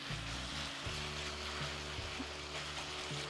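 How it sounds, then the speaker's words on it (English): Ground beef and minced garlic fry in a pan with a continuous soft sizzle and crackle, plus a low steady hum beneath, and nobody speaking. "And I like to add it in the middle to fry it as my ground beef is cooking"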